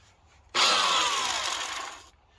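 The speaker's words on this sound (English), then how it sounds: "I got this little Ryobi hand planer I use once in a while" Small Ryobi electric hand planer shaving the edges of used wood, a loud close whine that starts abruptly, holds for about one and a half seconds, then cuts off.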